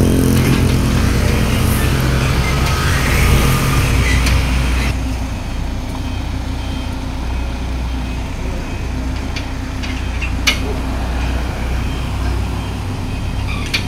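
A FAW JH6 truck with a 460 hp engine pulls into a garage yard, its loud steady diesel rumble filling the scene, easing slightly partway through while the drone continues close by.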